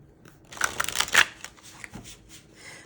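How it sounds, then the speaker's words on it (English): A prototype impressionist-style tarot deck is shuffled by hand, a brisk riffling burst of card edges flicking close up, building to a louder flurry then tapering into softer sliding and tapping, with no talk. "This is my first time shuffling the deck."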